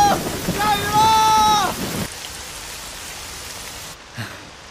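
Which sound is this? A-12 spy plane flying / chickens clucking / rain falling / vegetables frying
rain falling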